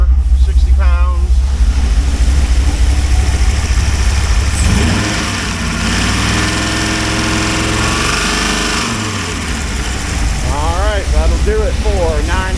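A 2001 Dodge Viper RT/10 with an 8.0L V10 runs loud and close at a wrecking yard, idling with a deep rumble and rising into several rev blips near the start and end.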